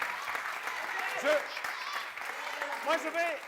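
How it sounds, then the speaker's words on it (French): Applause and cheering from a studio audience on a Burkina Faso TV variety show, steady crowd noise throughout with excited voices and shouts rising above it. "Je vais demander de faire beaucoup d'applaudissements"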